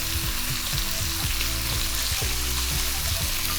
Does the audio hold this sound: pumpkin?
yes